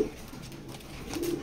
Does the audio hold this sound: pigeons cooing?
yes